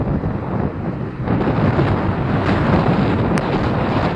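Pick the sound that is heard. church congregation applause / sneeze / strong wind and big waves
strong wind and big waves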